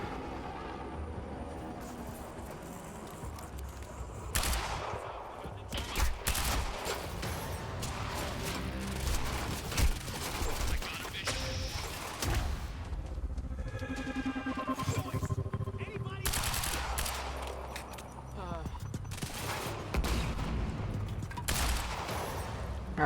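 Sniper fire and other gunshots in the game Quantum Break, sharp shots and bursts scattered through a long stretch of noisy combat, loud and near, with some talk between the shots.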